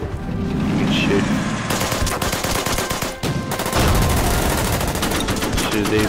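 Gunfire from units in the Order of Battle Pacific wargame, dense rapid machine-gun bursts and rattling volleys, loud and continuous with a brief pause midway, a voice faintly under it.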